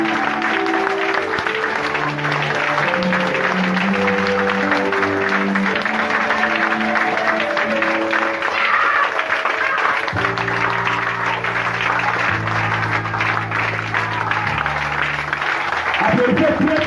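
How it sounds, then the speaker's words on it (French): Loud, steady applause from a church congregation fills the whole stretch, washing over sustained keyboard chords that play underneath throughout. "Applaudissez très très fort."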